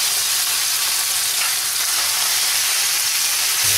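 Morcon meat roll frying in a pan with sautéed onion, garlic and tomato, giving a steady, close sizzle and hiss that holds evenly throughout with no voices.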